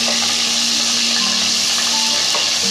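Ginger garlic paste hits hot oil in a pan, giving a loud, continuous hiss and sizzle with no breaks and no talking.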